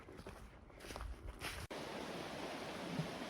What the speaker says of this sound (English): There's the creek.